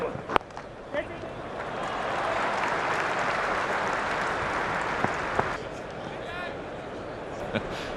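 Crowd applauding at a cricket match, Australia versus South Africa in a world championship final, a broad sustained wash of clapping swelling and holding for several seconds, with scattered sharp knocks and a commentator's voice.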